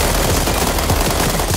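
Loud sustained automatic gunfire in the World War 3 first-person shooter game, rapid continuous bursts with dense rattling shots that barely pause while the player jumps.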